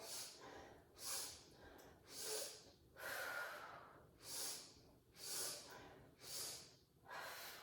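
Rhythmic deep breathing during a kids yoga class, with about eight close, airy inhale-and-exhale cycles roughly a second apart, the big exhales rushing out softly and evenly.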